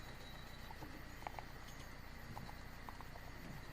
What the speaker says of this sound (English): So the horses are essentially running out in front of the carriage, and the carriage is following them.